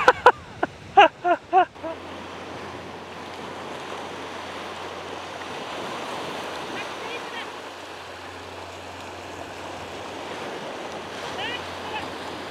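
Sea waves washing onto a wide white sandy beach on the Gower Peninsula, a steady distant surf roar with wind buffeting the microphone, after a few brief sharp knocks at the start.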